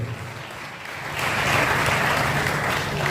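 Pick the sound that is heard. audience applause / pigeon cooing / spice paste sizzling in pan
audience applause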